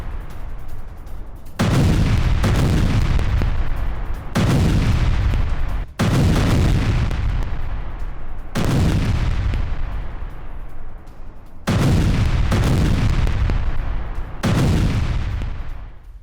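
Heavy gunfire and artillery roar during a Ukrainian paratrooper attack on a Russian armoured convoy near Kurakhove, six long loud booming bursts each decaying slowly, close and overwhelming with no speech.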